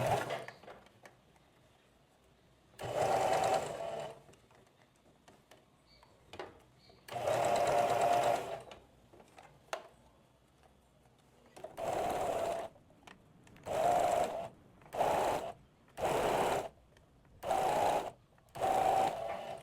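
Sewing machine stitching a rolled handkerchief hem on a blouse ruffle, running in about eight separate bursts of steady whirring, some long and some short, with quiet pauses between them.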